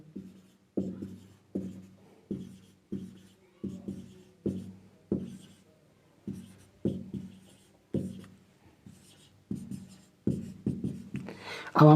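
Marker or pen writing numbers on a board, a steady series of about fifteen close, distinct strokes in an even rhythm with short gaps, no voices.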